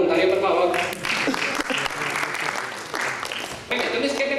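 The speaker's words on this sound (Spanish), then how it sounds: "Un aplauso para el voluntario, por favor." An audience at a home-automation talk applauds a volunteer, a clatter of handclaps that rises and fades, with a presenter's voice over the start and end.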